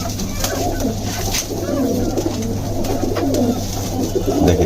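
Domestic pigeons coo in a loft during moulting season, soft repeated throaty calls close by over a low steady background hum, with faint voices in the background.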